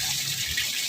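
A newly installed water pump gushing water at strong pressure, giving a continuous loud, close rush of flowing water with no break.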